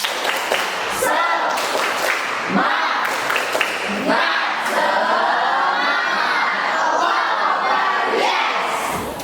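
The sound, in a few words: class doing spirit clapping cheer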